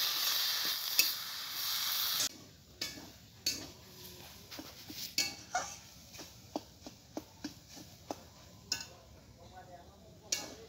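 Spinach lightly frying in a pan with salt and turmeric, a soft sizzle running beneath repeated sharp clinks and scrapes of a spatula against the pan, with a louder hiss at the start.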